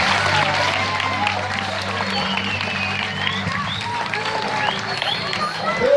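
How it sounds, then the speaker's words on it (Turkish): A crowd at a municipal awards ceremony for student athletes applauds a basketball coach, sustained dense clapping with a constant hum and some voices underneath, fairly loud throughout. "gençlerde, küçüklerde basketbol takımımız çalıştıran belediye öğretmenimiz Ayhan Hoşafçı'nın alkışlar alayım"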